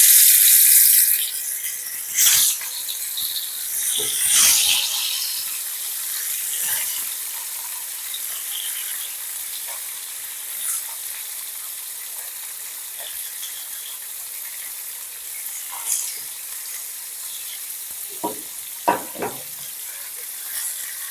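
Khoyra fish pieces are laid one by one into hot oil tempered with black cumin seeds, a loud initial sizzle that settles into a softer steady crackle, with scattered clatters and spatters.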